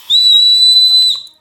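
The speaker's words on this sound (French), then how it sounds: "Je vais siffler." A whistle built into a New Balance sneaker blown once, a single loud, piercing, steady shrill tone lasting just over a second, alone without talk.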